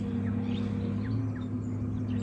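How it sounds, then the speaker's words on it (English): Birds call at an estuary, short faint chirps scattered over a steady low machine drone from a front loader working nearby. "All you can hear are birds and a front loader."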